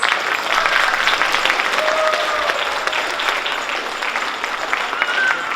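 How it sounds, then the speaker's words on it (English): Audience applause for the actors of a Ramlila cultural performance at a Hindu and Jain temple in Las Vegas, a dense steady round of clapping from a crowd that holds at full strength throughout. "a big round of applause to all the actors for the Ramlila performance"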